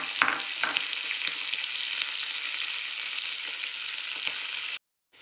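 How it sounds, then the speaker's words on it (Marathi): Cumin, curry leaves and cluster beans crackle in hot oil in a pan, giving a loud, continuous sizzle with a few sharp spits, which cuts off abruptly near the end. "थोडा जिरा, कढीपत्ता आणि आपली गवार टाकून द्यायची आहे"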